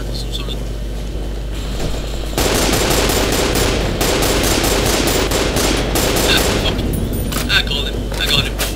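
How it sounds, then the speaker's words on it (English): Rapid automatic gunfire in the sci-fi shooter Nuclear Dawn, dense rattling bursts that start abruptly and run loud and nearly continuous, with a steady engine-like hum beneath. "Who the hell is shooting me?"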